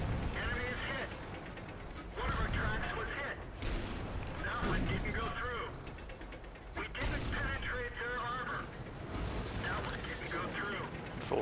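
A Churchill heavy tank's gun in World of Tanks fires again and again, heavy booming shots roughly every couple of seconds under steady engine rumble, with someone talking over the action.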